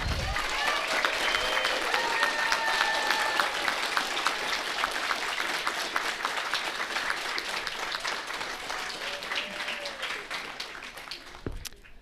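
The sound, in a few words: audience applause for CTE staff at a graduation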